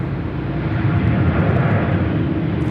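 A Boeing 787 airliner departs the airport, its engines a steady, loud, broadband roar that holds constant throughout with no voices over it.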